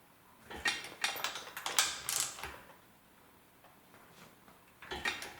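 A ratchet wrench clicks in quick bursts while an engine bolt on a 23,000-mile NA Mazda Miata is tightened to torque, with the crisp, close ratcheting repeating in two clusters separated by a brief pause.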